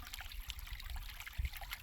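Creek water trickles steadily with a soft, continuous wash and a few low thumps near the microphone, no voices present.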